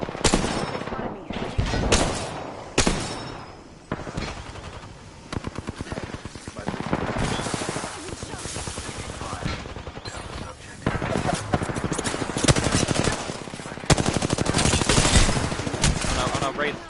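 Rapid automatic gunfire from the Apex Legends video game, loud bursts and sustained fusillades running throughout, with a player's voice talking over the shooting.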